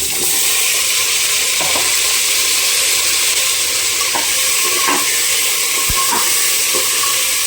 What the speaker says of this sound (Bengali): ধুয়ে রাখা আলুগুলো তেলের মধ্যে দিয়ে দিই।